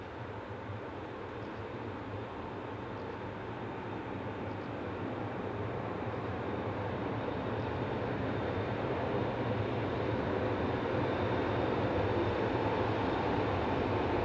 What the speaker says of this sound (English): The 1530 series from Brieg arrives behind DEH44 locomotive number 92